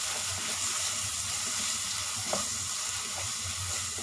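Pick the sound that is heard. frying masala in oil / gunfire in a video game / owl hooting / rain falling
frying masala in oil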